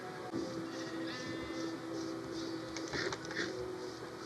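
Sheep bleat in Minecraft, with a few repeated animal calls rising over a steady busy game background with other ambient noise.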